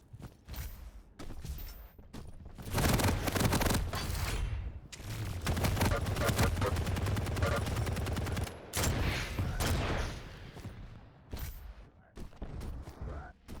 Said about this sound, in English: Puffpastry throwing rockets into Lucky's face.